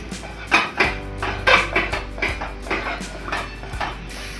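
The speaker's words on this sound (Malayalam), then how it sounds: "ഇനി വീണ്ടും നന്നായിട്ട് ഇളക്കി യോജിപ്പിച്ചുകൊണ്ടേ ഇരിക്കാം." A spoon scraping and clinking rhythmically in a pan as wheat halwa with cashew nuts is stirred, roughly a dozen close, steady strokes with a low hum beneath, no speech.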